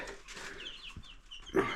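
A brood of about seventy young chicks gives soft clucks and cheeps, faint and scattered at first, then a louder burst of calls at the end.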